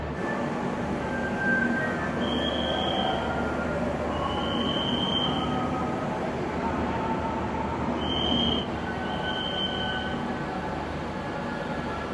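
The Garib Rath Express pulls out of Shalimar bound for Puri, a steady rumble of wheels with repeated high squeals from the rails, heard from on board.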